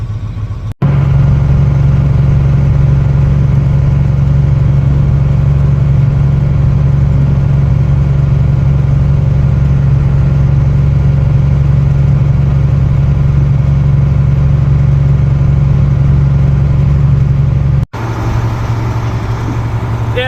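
A John Deere 4430 tractor pulling away on an icy road during an ice storm, its diesel engine droning loud and steady for most of the stretch, with a brief dropout near the end.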